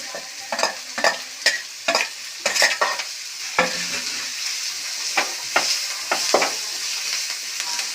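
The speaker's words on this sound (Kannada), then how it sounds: "ಈಗ ಚೆನ್ನಾಗಿ ಫ್ರೈ ಮಾಡ್ತಾಯಿದ್ದೀನಿ." Carrots, beans and green chilies are stir-fried in a pan, with repeated scraping stirs over a light, continuous sizzle heard close up and without speech.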